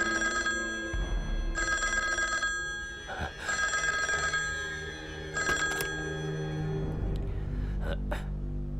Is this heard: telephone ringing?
yes